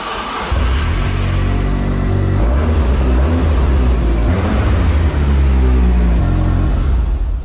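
A Mitsubishi Evo engine starts and runs during a sound check, a fairly quiet steady rumble with mild revving swells, heard up close with no talking.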